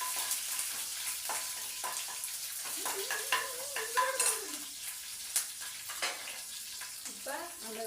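Spices and green chili fry in oil with a low, constant sizzle. Light stirring scrapes and occasional utensil clicks sound against the pan, and a faint voice is briefly heard in the background.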